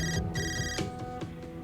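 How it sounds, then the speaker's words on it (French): A telephone ringtone plays in short repeated electronic bursts, bright and tonal, loud and close, alone without talk. "C'est la sonnerie du téléphone d'Oya."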